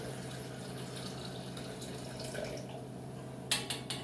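Tea from two tea bags pours into a container in a home kitchen with a faint, steady trickle under low room noise, followed by a few sharp clinks near the end.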